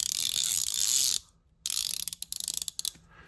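A new Matco Silver Eagle ratchet from an SAB65SEA tool set, clicking close up with noticeable back drag: a dense buzzing ratchet run, a short pause, then a rapid series of sharp pawl clicks, with no talking.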